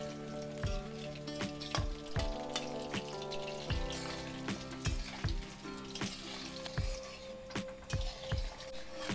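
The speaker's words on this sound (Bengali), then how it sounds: "এবার পকোড়াগুলো ভাজা হচ্ছে।" Chicken pakoras deep frying in hot oil, a steady bubbling sizzle with frequent sharp pops and crackles throughout, close and fairly loud with no talking.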